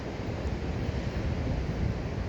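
Ocean waves wash steadily on a beach in Ecuador under an overcast sky, a continuous broadband surf roar mixed with wind buffeting the microphone, no voices.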